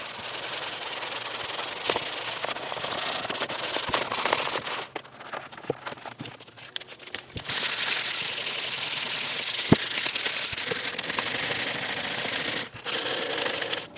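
A power sander runs over a guitar neck for a partscaster build, giving a steady close rubbing whir that dips briefly in the middle and then resumes, with no speech.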